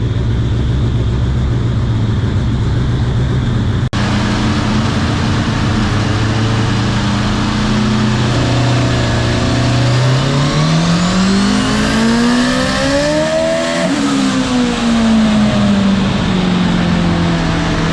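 A Hayabusa turbo engine in a Toyota Corolla KE10 roars on a dyno, droning steadily before its pitch sweeps up, dips and climbs again as the clutch slips, very loud and close, no voices.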